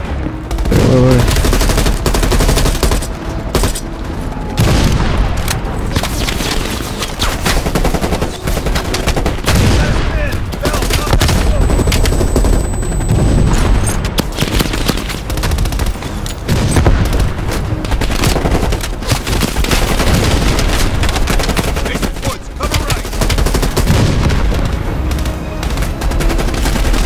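Dense, continuous gunfire and booming anti-aircraft gun bursts fill a Call of Duty Black Ops Cold War battle, loud and unrelenting throughout, with occasional shouted voices buried beneath.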